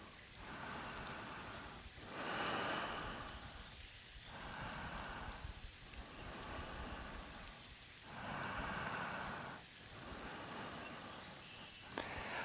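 Slow, deep breathing during yoga relaxation, with close, airy inhales and exhales repeating in a steady rhythm every few seconds.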